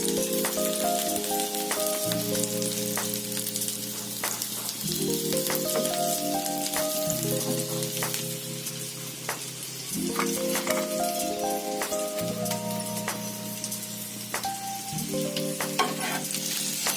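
Chicken lightly frying in oil gives a steady, close sizzle throughout, with a repeating tonal melody running underneath.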